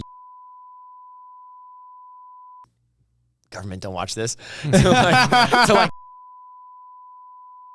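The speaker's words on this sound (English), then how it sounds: "Yeah, beep that out." A steady high-pitched censor beep tone runs for a few seconds, breaks, then returns after a stretch of people talking and chuckling.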